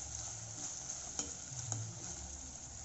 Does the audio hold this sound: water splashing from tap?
no